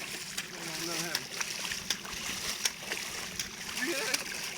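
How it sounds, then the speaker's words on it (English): Feet splash and slosh through a rain puddle in a steady run of wet steps, close and fairly loud, with people talking over parts of it. "It sounds like a real water pond right here."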